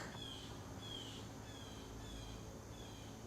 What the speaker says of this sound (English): It's okay to hear that little bird in the background and integrate that with your breath.